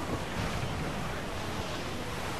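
Steady wind and rolling surf wash over the deck of a sailing ship on the open sea in Assassin's Creed IV Black Flag, a continuous broadband roar without any break or voice.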